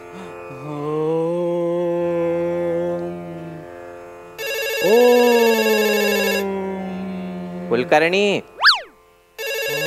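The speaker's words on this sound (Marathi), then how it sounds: "अरे फोन वाजतोय तुझा" A mobile phone ringtone plays loud and continuous, a melodic electronic tune with a bright synthetic burst midway, over and between people talking in a lively Marathi comedy sketch.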